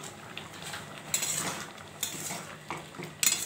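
Chutney with salt and turmeric stirred in a pan, a few quick scraping and clattering spoon strokes against the metal, close and fairly quiet, with no voices.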